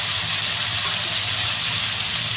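Chopped big onions are dropped into a hot pan for a tamarind kulambu and fry with a loud, steady, hissing sizzle that runs without a break.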